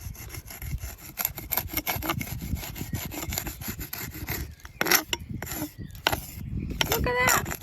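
Pickaxe-hoe hand tool scraping soil off a surface outdoors: repeated rough, gritty scrapes and rasping strokes in an uneven rhythm, close and fairly loud, with a few sharper knocks.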